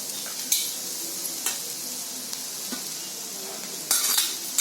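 Grated coconut and garlic roast with onion in a hot pan, giving a soft continuous sizzle broken by scraping stirs and occasional clinks of a spatula against the metal.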